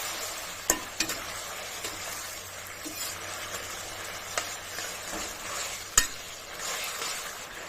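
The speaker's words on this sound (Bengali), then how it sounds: "আবার একটু নাড়াচাড়া করে নিতে হবে।" Fried onions and capsicum are stirred in a pan for chilli paneer, with a soft steady sizzle and intermittent scraping clinks of the spatula against the pan, close and moderately quiet, no talking.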